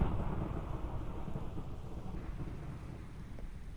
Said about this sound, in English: Oh, it's thunderstorming.